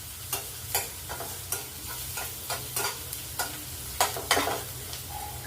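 Onion frying in a pan over medium gas, a soft continuous sizzle broken by repeated scraping strokes of a spatula, close and fairly quiet with no talk.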